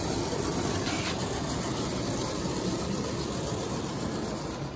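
An HO scale model rail car runs along layout track on an English-style model train layout, giving a continuous soft rolling rumble and whir with steady loudness and no talking.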